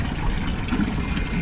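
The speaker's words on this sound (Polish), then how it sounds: "Nalewamy wodę do kampera." Water pouring into a camper van's tank: a steady, close rushing flow, unbroken and even throughout.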